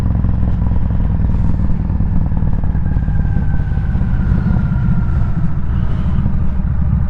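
Motorcycle engine revving while parked at a roadside cafe, a loud, steady, close rumble with a faint rising whine, running continuously with wind buffeting the microphone.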